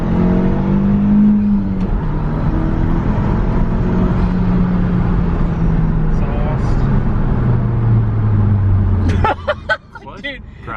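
An all-wheel-drive Audi accelerates hard with ESP off, its exhaust rising in a loud climbing drone through the gears before cutting off near the end, while people talk excitedly inside the car.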